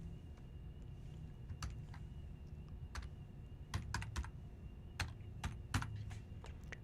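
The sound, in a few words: typing commands on a computer keyboard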